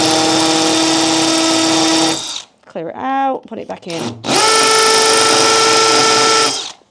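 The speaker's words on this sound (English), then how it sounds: "And I've got it on hammer drill setting." A hammer drill on its hammer setting bores into a wall with a loud, harsh buzzing whine in two long bursts, separated by a short pause in which someone speaks.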